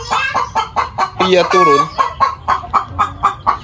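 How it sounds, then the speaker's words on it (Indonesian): Free-range village chickens in a coop in a flood-prone area: a hen's repeated clucks build into a loud, drawn-out cackle midway, then settle back into steady rhythmic clucking, with a brief voice heard nearby. "Tuh ciri khas ayam kalau sudah bertelur berpetok seperti ini."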